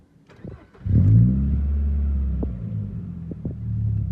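A Peugeot 206 S16 with a full RC Racing exhaust line starts up: starter cranking, then the engine catches with a deep burbling rumble and settles into a low, steady idle with small blips, close by.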